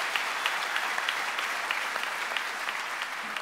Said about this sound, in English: Give them people a round of applause.